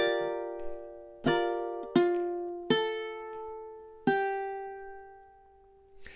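A ukulele picks out measure 10 of a song: five clear plucked notes, each sharply struck and left ringing, spaced at a slow, uneven pace, close and moderately loud with no talking.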